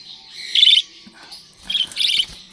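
A show budgie chick gives a few shrill, high chirps in two short bursts separated by a brief pause, close by in an otherwise quiet room.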